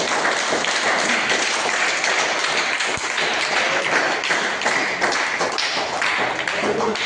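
An audience at a community event in Bhosari applauds to welcome guests, a sustained crowd clapping with dense irregular taps and thuds that carries on throughout, without any voice rising above it.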